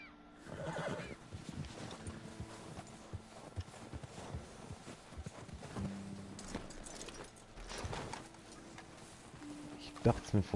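A horse in the snowy mountains of the video game Red Dead Redemption 2 whinnies while hooves clip-clop, all fairly faint beneath the game's ambient sound.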